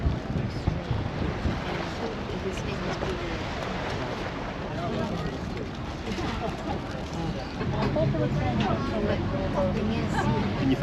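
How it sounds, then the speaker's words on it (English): Wind gusting across a coastal spot on Hawaii's Big Island near Kona, a constant rushing roar buffeting the microphone, with boat noise and voices talking underneath. "It feels quite windy here."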